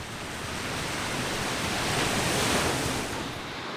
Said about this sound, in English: So we've ended up on this beach.